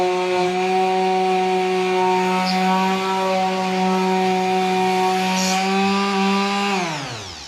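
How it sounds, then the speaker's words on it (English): An electric power sander whines steadily with a strong tonal hum while sanding an oak firewood rail, running loud and close without pause before winding down at the end. "So I'm just sanding enough to get rid of any pencil marks that I made."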